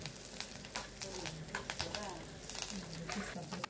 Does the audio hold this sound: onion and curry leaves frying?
yes